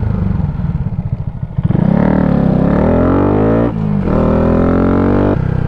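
A 2023 Honda Grom motorcycle riding through a tunnel at night, its engine droning loud and close with a rising, echoing pitch as it accelerates, after a rougher lower-pitched stretch at the start.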